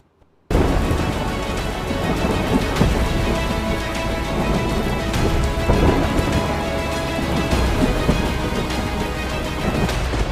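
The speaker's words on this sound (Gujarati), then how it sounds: "છેલ્લા 48 કલાકમાં સુરત શહેર અને જિલ્લામાં 18 ઇંચ કરતાં વધુ વરસાદ ખાબકી ગયો છે" Heavy monsoon rain pours down over flooded Surat with rolling thunder, a loud dense downpour that starts abruptly after a short silence and stays continuous, with deep rumbles swelling through it.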